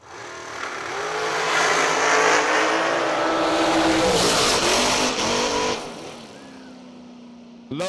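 A drag racing car launches at full throttle at a bracket race, its engine roaring loud and close with rising revs and tire noise, then fading as it pulls away down the strip.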